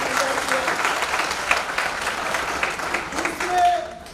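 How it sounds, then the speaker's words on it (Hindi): Audience applause at a university gathering in Udaipur, a dense wash of clapping from a large crowd that swells toward the end, with a voice faintly present beneath it. "चलिए जरा एक बार ताली बजा दो यार।"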